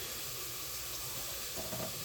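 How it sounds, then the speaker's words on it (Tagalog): Hot water poured into a cup for coffee in a home kitchen, a steady close hissing splash filling the whole short moment with no talk. "Lagyan natin ng mainit na tubig."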